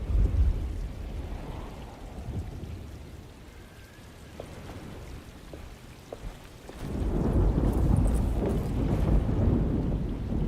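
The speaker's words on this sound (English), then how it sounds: "Just keeping an eye out for the storm." Stormy weather in a horror video game set near woods: steady rain and rumbling wind fill the background, easing midway, then swelling into a louder, dense downpour with low thunder-like roar toward the end. No one speaks.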